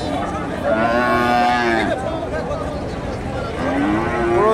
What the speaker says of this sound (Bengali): এখানে একটা দেখেন ফ্রিজিয়ান ক্রস